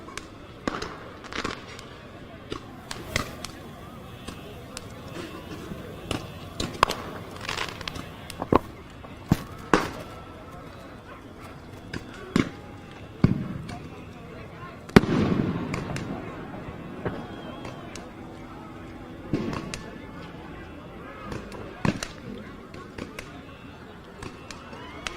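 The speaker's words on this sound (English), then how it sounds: "Shooting fireworks into the windows." Repeated sharp fireworks bangs and pops during a street riot, some close and loud, others farther off, scattered irregularly through the clip with occasional voices.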